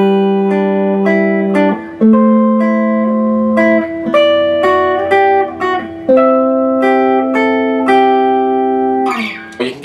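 A Gibson VOS Melody Maker electric guitar is played on its top strings, with clean plucked notes and two-note intervals ringing one after another in a steady sequence, close and clear with no talking.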